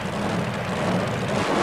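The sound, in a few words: super modified mud racing car engine roaring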